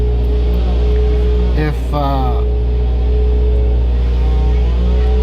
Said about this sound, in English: we're gonna get you some exhaust sounds from the interior